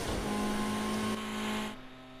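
Ferrari 458 engine in Project Cars 2, a loud sustained roar held at high revs while racing across the line, then the tone drops and fades as the throttle eases near the end.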